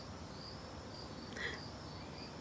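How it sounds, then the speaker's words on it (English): Faint, steady chirping of crickets in a quiet outdoor setting, with a brief soft click partway through. "I hear crickets."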